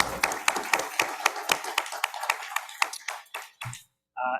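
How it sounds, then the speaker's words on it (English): Audience applause at a school board meeting: a burst of many hands clapping, dense and steady for about three and a half seconds before tapering off, then a brief pause and a voice resuming. "I just want to give a round of applause for these people"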